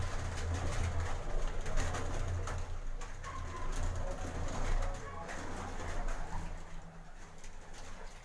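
Pigeons coo softly at a rooftop pigeon loft in Gujranwala housing champion racing birds, with steady low cooing under someone speaking and outdoor background noise.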